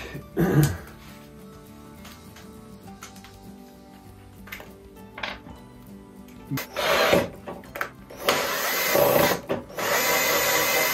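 A power drill unscrewing a screw while a mobile workbench is being built, with scattered clicks and handling knocks before short whirring bursts of the drill near the end, close and moderately loud.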